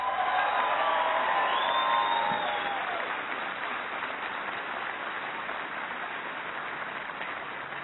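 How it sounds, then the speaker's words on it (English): Troops at Bagram Air Field in Afghanistan applaud and cheer, producing a loud, sustained crowd ovation with whoops and whistles early on that settles into steady clapping. "Give them a big round of applause."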